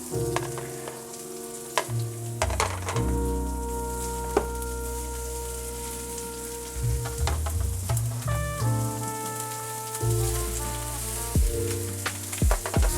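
Asparagus sizzles in a hot pan while being turned, a crackling fry under tonal hum and clatter, with a few sharp clicks and knocks from tongs or utensils, moderately quiet and close.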